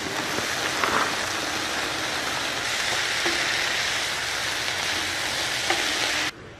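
About half a cup of frozen peas hitting a hot sauté pan with vegan breakfast ingredients, a loud, steady crackling sizzle with small stirring clicks that cuts off near the end.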